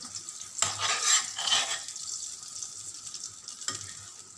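Eggs scrambled with garlic, onions and tomatoes sizzling and being stirred in a hot pan, two or three bursts of scraping and frying over a steady quieter sizzle, close and without talk.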